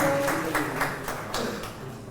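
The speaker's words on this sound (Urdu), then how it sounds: "ایمان کے لیے بہت ساری تالیاں ہونی چاہیے" Audience clapping steadily for an award recipient at a social media workshop certificates ceremony, a dense, even patter of many hands at moderate level with no break across the short stretch.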